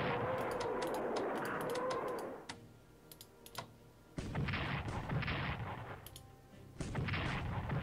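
Artillery in the strategy game Strategic Command firing in several loud, booming bursts, separated by quieter gaps that hold faint clicks and ticks.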